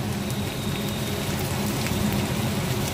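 Tomato goes into a pan of onions fried until reddish, giving a loud, dense, steady sizzle that crackles like rain throughout.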